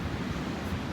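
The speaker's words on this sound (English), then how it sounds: "catching a nice big wave out there" Continuous rush of ocean waves breaking onto the sand at Oceanside beach, California, near the pier, a dense low wash with some wind buffeting, steady and close with no talking.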